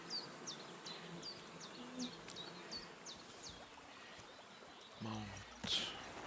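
Bees buzz in the medieval role-playing game Kingdom Come: Deliverance II, a faint, steady insect drone with a series of quick chirping calls over it, then a brief splash-like rustle near the end.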